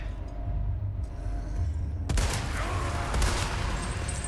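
Gunfire in the video game Resident Evil 4 Remake: after two seconds of low ambient rumble, a burst of rapid shots and crackling impacts fills the rest of the clip, dense and loud.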